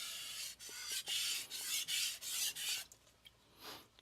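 A Kohetsu HAP40 gyuto knife scrapes across a King Neo 800 whetstone in about six rhythmic, close, raspy strokes, then a few lighter, quieter passes and a soft final stroke.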